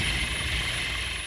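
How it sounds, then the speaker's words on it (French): A rescue helicopter's steady rotor and engine drone at a French seaport, loud and continuous with a whining high tone, no voices. "L'hélicoptère peut quitter la zone pour rejoindre l'hôpital le plus proche."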